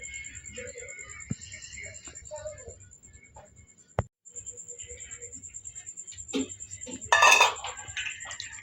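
Snails being washed in a metal pot of water in a home kitchen: scattered clinks and scraping rattles of shells against the pot, soft splashy handling and a sharp knock, fairly close and moderately quiet, with a steady tone running underneath.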